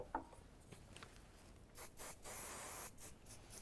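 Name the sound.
hairspray being sprayed around the face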